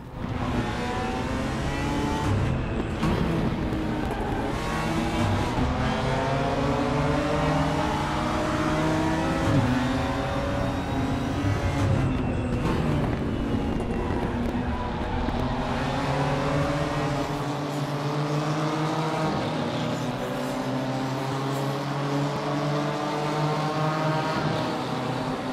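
A BMW M4 GT4 race car in the RaceRoom racing game drives on, its engine note rising and falling through gear changes in a loud, continuous drone with no talking.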